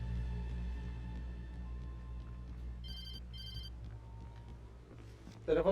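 A telephone rings in the video game Alan Wake Remastered: two short bursts of electronic ringing over a low ambient hum and faint game sounds, ending in a brief noisy thud.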